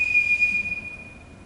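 A household summoning whistle blown as a single sustained shrill piercing tone, loud and close, fading after about a second, with no talking.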